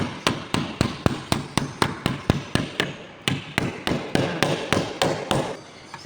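A hammer taps on sheet metal over and over while its walls are folded to shape a scoop, roughly two or three sharp metallic strikes each second, close and even in a workshop, with no talking.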